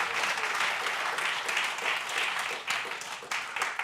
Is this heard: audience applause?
yes